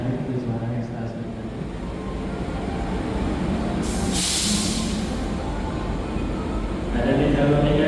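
An extra Gambir–Jogja passenger train pulls into track 3 at Yogyakarta station, a steady low rumble and hiss of rolling stock running throughout, with a brief bright hiss burst midway and a station announcement voice over it.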